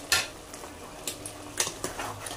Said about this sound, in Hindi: और इसे करेंगे मिक्स, और इसी तरह हम भूनते हुए इसे अच्छी तरह पका लेंगे